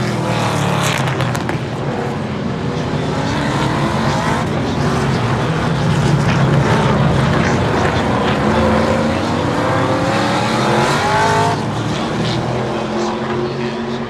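NASCAR stock cars lapping the Circuit of the Americas road course, a continuous loud engine roar with several cars blending together and swelling as they pass close by.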